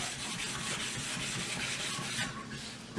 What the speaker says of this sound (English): starts to grind down the high points on the stone until it's level with the low points of the stone